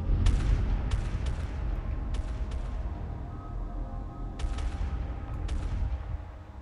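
Weapon fire in the space strategy game Homeworld Remastered: bursts of shots crackle over a dense, rumbling battle din, with clusters of sharp hits near the start and again near the end, and no one talking.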